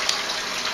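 Water runs steadily from a tap as bottles are refilled, a short, even rushing hiss close by with no voices.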